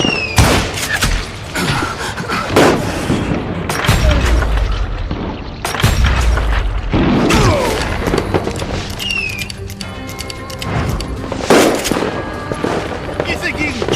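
Gunshots in the Call of Juarez Gunslinger video game, loud booming blasts and bursts of rapid fire close by, mixed with game sounds and shouting voices.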